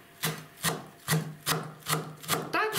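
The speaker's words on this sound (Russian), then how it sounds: "И нарезаем мелко." A knife chops a small bunch of fresh cilantro finely on a wooden board, seven crisp, evenly spaced strikes about half a second apart, close and clear with no talking.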